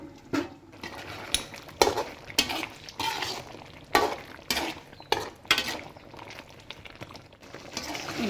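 Spoon scraping and clanking against a pan while brinjal and capsicum curry is stirred and fried, with repeated sharp metallic knocks at an uneven rhythm over a low background hiss, close and moderately loud.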